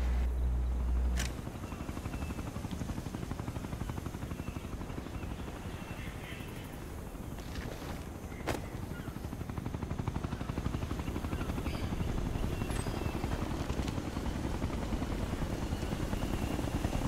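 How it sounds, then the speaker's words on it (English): A military helicopter hovers overhead during a Ghost Recon Future Soldier mission, a steady loud rotor roar with low thumping filling the scene throughout, and a sharp crack or two stands out briefly. "Keep your heads down. If that chopper spots us,"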